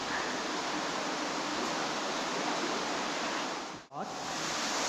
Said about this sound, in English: I reckon that's the water we could hear running down here